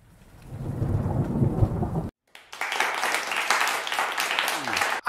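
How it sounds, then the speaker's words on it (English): Thunder rumbles low and heavy through steady rain, breaks off for a moment, then returns as a loud roll over a dense wash of falling rain. "After lightning, we hear thunder."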